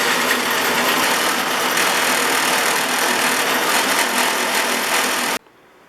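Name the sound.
buffing wheel polishing Stanley block plane cap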